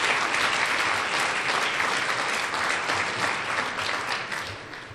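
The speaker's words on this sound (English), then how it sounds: "clap for yourselves and your team" A room of advocates claps for themselves and their team at a gun-control gathering, a dense, lively burst of applause close by that slowly tapers toward the end.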